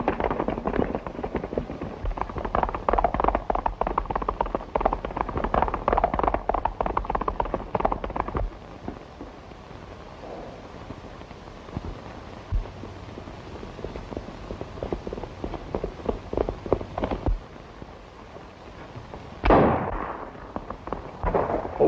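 Gunshots in a 1937 western film, a burst of sharp cracks amid galloping hoofbeats and action noise, then a lone loud shot near the end, mid-distance and fairly strong with no speech.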